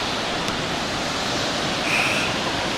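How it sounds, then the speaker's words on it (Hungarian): Water pours down a mountain stream in the Swiss Alps, a loud, continuous broadband rush with no breaks, heard up close and alone. "egyébként végig ömlik a víz"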